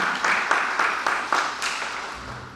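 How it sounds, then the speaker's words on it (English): An audience at a city mayoral candidate forum applauds the two candidates, a moderate burst of steady clapping that gradually thins and fades toward the end. "And a hand of applause for both of our candidates."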